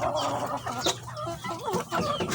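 Pet chickens cluck repeatedly at close range while being given feed and vitamins, a busy run of short clucks and murmurs with no talk over them.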